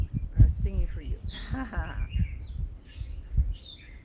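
A small bird chirps and sings outdoors in short high tweets scattered over several seconds, mid-distance, with someone talking softly alongside.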